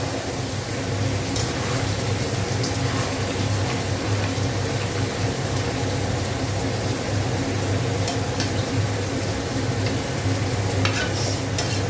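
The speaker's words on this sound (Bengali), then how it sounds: "ভাজা হোক ওটা।" Food fries in a pan with a continuous, dense, loud sizzle that stays even and close throughout, with faint clicks on top and no talking.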